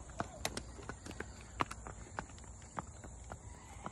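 A 9-year-old cremello paint mare, 14.3 hands, moves under a rider at a rack, trot or canter, with a run of quick, crisp hoof clip-clops in an uneven rhythm. The hoofbeats are moderately close, with faint background noise.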